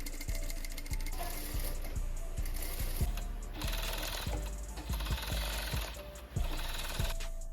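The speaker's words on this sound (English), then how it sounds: "I'm gonna go to my sewing machine and sew them" Sewing machine stitching fabric pieces for a homemade costume shirt, a steady rapid mechanical clatter with regular needle thumps, close and continuous with a brief pause near the end.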